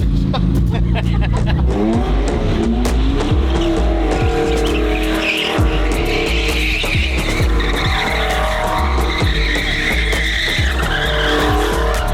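McLaren supercar revving and squealing its tires near a garage, a loud continuous engine roar with screeching skids, close, while people talk in the background.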